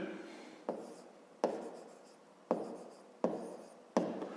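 Pen strokes on paper while writing out a fifth-grade math exercise solution, a series of five distinct scratchy bursts with brief pauses, quiet and close.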